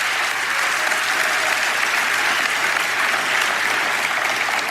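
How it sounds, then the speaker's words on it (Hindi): A church congregation bursting into loud, steady applause, dense clapping from many hands filling the room continuously without a break. "आइए, इन्हें जोरदार तालियां दें।"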